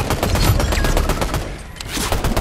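Sniper rifle and other gunfire in a Fortnite Battle Royale match, a dense burst of repeated loud shots and bangs filling the whole stretch with no pause.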